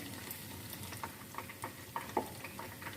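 Chicken dabo frying in oil gives a soft, steady sizzle with scattered small pops and crackles, heard fairly quietly with no voices.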